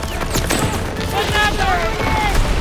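Battlefield noise in the Call of Duty WWII campaign, a grenade blast amid dense gunfire and rumbling booms, with shouted voices over the chaotic combat.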